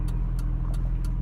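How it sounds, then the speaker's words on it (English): A car's turn signal ticks inside the cabin, four evenly spaced sharp clicks over a steady low engine and road rumble, with no talking. "and that is my turn signal."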